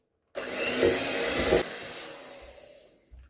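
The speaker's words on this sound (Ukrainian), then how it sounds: "Добавляємо 2 яйця, 2 стакана цукру і все це блендером збиваємо." A kitchen blender whirs as it beats two eggs with two cups of sugar and kefir, a loud steady motor whine lasting about a second before easing into a lower, fading spin and stopping.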